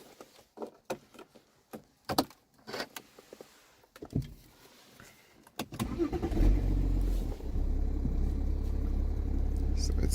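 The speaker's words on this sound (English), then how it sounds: "we are going out on a drive" In a car out before sunrise, scattered clicks and handling noises come first, then the engine starts and settles into a steady, loud, low rumble that continues to the end.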